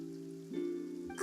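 Rain falling in Fontaine in the video game Genshin Impact, a soft steady patter hissing beneath sustained musical tones, with a slight swell in intensity partway through and a brighter splash near the end.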